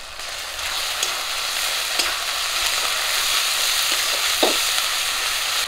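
Ginger, garlic, dried chilli and cumin paste frying in hot oil, with mustard paste, turmeric and salt, giving a loud, steady close sizzle with a few soft stirring scrapes and no talk.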